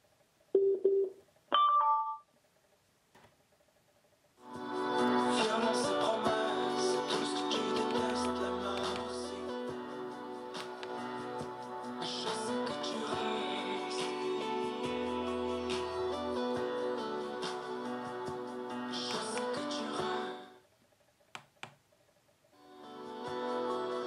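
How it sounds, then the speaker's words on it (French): A waterproof Bluetooth speaker from AliExpress plays music loudly and steadily for about sixteen seconds, after a few short clicks and beeps, then stops abruptly with brief quiet handling noises. "Je vais vous faire un petit test de son"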